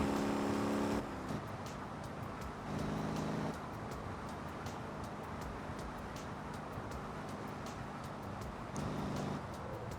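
Truck engine in the Motor Town driving game running in sport mode, a steady droning hum with two short louder stretches of higher revving.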